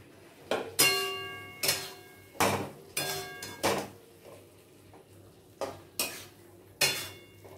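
Potatoes are stir-fried in a pan, with about ten sharp metallic clanks of a spatula against the pan at uneven spacing over a faint sizzle.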